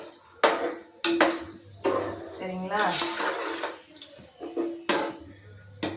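A spoon scrapes and clanks against a metal pot in repeated stirring strokes through drumsticks and eggplant, close and loud, while a person speaks briefly in between.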